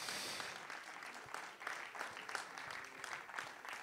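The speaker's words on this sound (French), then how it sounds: "On peut les applaudir déjà." Audience clapping at a jazz jam concert, a fairly quiet, steady patter of many hands spread through a room, with scattered sharper claps standing out.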